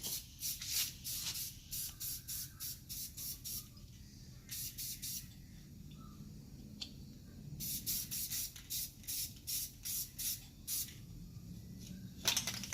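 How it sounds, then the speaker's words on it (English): Glossy black spray paint hisses from an aerosol can onto a water pump pulley from a 5.0 Foxbody Mustang, in short repeated bursts close to the mic with brief pauses between them. "hit it with a little glossy black spray paint and get it bolted back up there"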